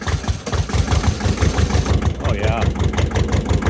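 An old Massey Ferguson 210-4 tractor engine chugs after starting, settling into a loud, rapid, even idle close by, with someone speaking briefly over it.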